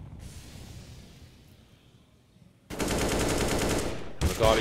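Desert Eagle gunfire in Counter-Strike at a pro esports event: after a quiet hissy lull, a loud sustained burst of rapid shots erupts, then a brief gap and another sharp volley, with faint commentary voices in the background.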